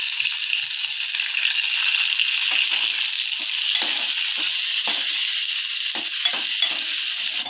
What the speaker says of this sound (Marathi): आता हा बारीक चिरलेला मी कांदा घालत आहे